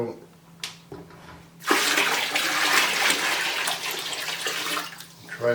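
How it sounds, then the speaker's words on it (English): Hot boiling water pours steadily and loudly into a container for several seconds, a rushing splash that tapers off near the end. "we're going to pour some hot boiling water in there"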